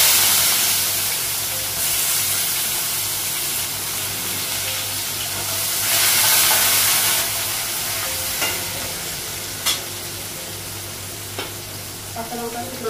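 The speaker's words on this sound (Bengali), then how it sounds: "একবারে আলু পেঁয়াজটা ভাজবো" Potatoes and onions fry together in a pan with a steady, loud sizzle throughout, joined by occasional scraping of a spatula and a few short clicks toward the end.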